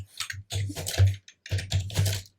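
Rapid bursts of computer keyboard typing while code is written in the Elixir language, with two clusters of close, clattering keystrokes separated by a short pause.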